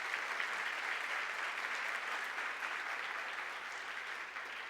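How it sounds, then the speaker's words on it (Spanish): A large church congregation applauds continuously, a dense even wash of clapping that fades slightly toward the end. "Dale un aplauso al Señor"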